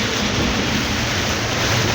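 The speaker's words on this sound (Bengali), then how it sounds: "বৃষ্টিপাত হচ্ছে, মুষলধারে বৃষ্টি পড়তেছে যাকে বলা যায়।" Heavy downpour during a ride on a Scania double-decker bus, a dense, steady roar of rain with a low rumble underneath, loud and unbroken.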